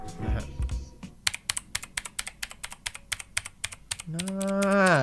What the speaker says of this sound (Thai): นี่คือเสียงทั้งหมดนะครับ และรายละเอียดทั้งหมดของเจ้าคีย์บอร์ดตัวนี้